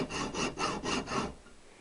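Hand sawing of a wedge-shaped slot while fitting an external oil filter, five quick rhythmic rasping strokes close by, then stopping, with no voices.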